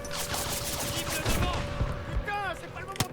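Machine gun fire in the Modern Warfare campaign, rapid gunfire bursts crackling through continuous game noise, with a sharp loud crack near the end and voices talking over it.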